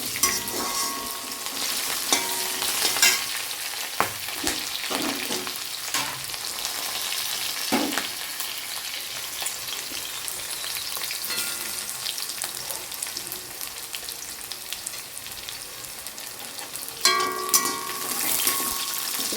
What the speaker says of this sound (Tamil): வெங்காயம் பச்சை மிளகா வரமிளகா கருவேப்பிலை இதை போட்டு நல்லா வதக்கணும்